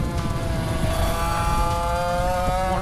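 A race car on a circuit during a French regional championship final lap, engine droning close and steady with tonal whine rising as it accelerates after braking; no talk.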